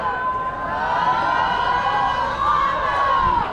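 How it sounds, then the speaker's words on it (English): A crowd at a game cheers loudly and continuously, a sustained, swelling roar of many voices with wavering shouts, filling the whole moment. "Lamo is just totally cheering."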